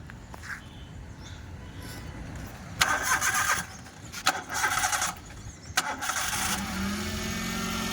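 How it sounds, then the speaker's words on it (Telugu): A 2007 Maruti Alto petrol car engine cranks in a few short starter bursts, then catches and settles into a steady, fairly quiet idle up close. "ఒకసారి స్టార్ట్ చేయను."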